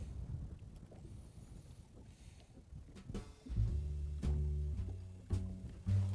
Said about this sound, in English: that wind is really picking up